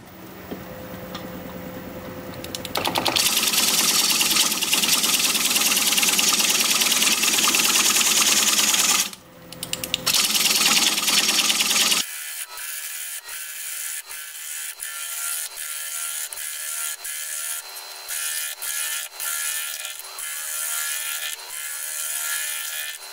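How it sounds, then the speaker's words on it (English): A wood lathe spins a bark-on bowl at 600 RPM under a 5/8 inch bowl gouge, giving a loud, steady broadband cutting roar that drops out briefly, then gives way to rapid fine ticking and chattering. "We're going to be turning at 600 RPM, 5/8 inch bowl gouge, mask and face shield on"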